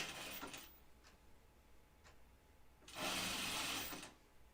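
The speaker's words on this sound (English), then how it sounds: "So I'm going to sew this with a pretty small seam allowance" A sewing machine stitching a small seam on a Blanca flight suit, a short whirring burst, then faint ticks, then a second, louder run of about a second.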